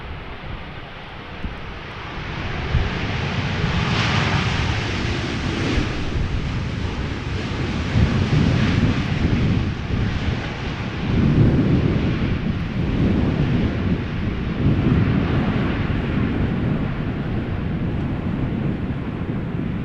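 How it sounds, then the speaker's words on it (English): A KLM Boeing 787-10 Dreamliner arriving from Cartagena lands at Amsterdam Schiphol Airport in crosswind conditions, a broad, steady jet roar that swells and rumbles continuously for many seconds, moderately near. "This is KLM flight 741 arriving from Cartagena, a 787-10 Dreamliner."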